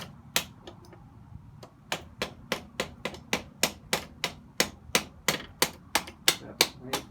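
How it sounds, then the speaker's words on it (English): Sharp rubber-hammer taps strike in a steady series, about twenty blows, fairly close and evenly spaced after a couple of scattered hits, during a rear brake shoe change on a 1985 Suzuki Madura 700 GV700GL motorcycle. "Rubber hammer prepared."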